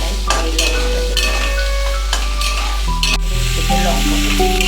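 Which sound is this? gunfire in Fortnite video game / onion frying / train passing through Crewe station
onion frying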